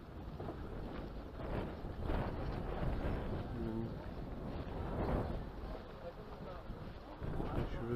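Gusty wind buffets the microphone on a boat tour off Bodrum, with rushing swells under a boat's hum, and voices talk faintly through it.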